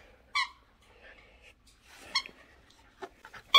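A dog plays with a toy and gives short, soft whimpers and whines, spaced out over quiet stretches, ending in a couple of sharper squeaky bursts.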